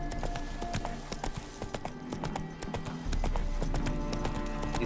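Hoofbeats of a horse galloping in The Witcher 3 on PS5, a steady, close clip-clop rhythm running throughout, with low game music and ambience beneath and a louder stretch in the second half.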